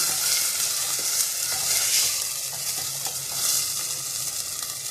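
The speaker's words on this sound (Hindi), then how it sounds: "आटे को थोड़ा रोक रोक के डालें और चलाते जाएं" Sarson saag being stirred with flour in a hot pan, a steady close sizzle and frying hiss with soft scraping stirs throughout.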